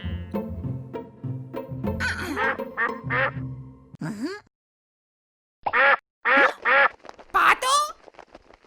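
A cartoon duck quacking in a children's animal-sounds game: several loud, nasal quacks in a short burst after a stretch of excited speech, with spoken words and a brief silence before the quacks.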